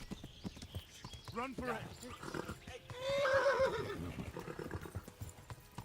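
Horse galloping in the video game Kingdom Come during a chase, with hoofbeats and a loud whinny in the middle, heard under a player's excited talk and nearby shouting.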